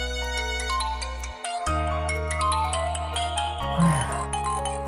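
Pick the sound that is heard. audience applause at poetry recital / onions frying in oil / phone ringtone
phone ringtone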